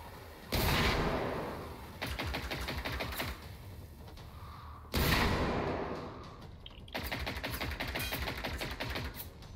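Two loud shotgun blasts in the video game Generation Zero, about four seconds apart. Each sharp crack decays into a clattering, rattling tail of mechanical noise, with no talk.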